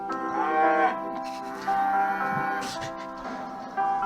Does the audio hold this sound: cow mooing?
yes